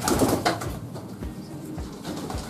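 Pigeons coo in a loft, giving a few soft, low burbling calls close by in a short burst, with a quiet room behind them and no talking.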